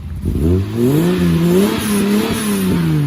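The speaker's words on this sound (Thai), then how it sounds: "เป็นเครื่องยนต์เบนซินนะเสียงนี่ผมสตาร์ทเครื่องแล้วนะฮะมันจะเบาและเงียบนิดนึง" The petrol engine of a service tram vehicle runs close by with a smooth, steady hum, its pitch rising and dipping gently as it revs lightly, no voices present.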